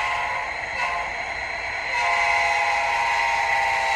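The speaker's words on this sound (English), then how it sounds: "F9 is Doppler horn." Train horn in a train simulator video game, a sustained loud multi-tone blast whose pitch sags slightly partway through as the Doppler effect kicks in, heard alone over faint rail rumble.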